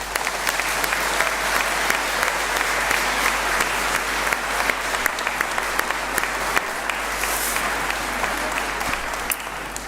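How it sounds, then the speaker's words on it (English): Loud, sustained applause from a large audience, with steady dense clapping throughout and no pause. "This will be an evening full of applause, so warm your hands."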